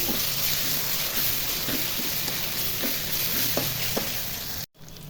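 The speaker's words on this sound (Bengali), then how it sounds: "আদা বাটা দিয়ে ভেজে নিব।" A steady close sizzle of ginger paste frying hisses throughout, with a few light stirring taps, cutting off abruptly near the end.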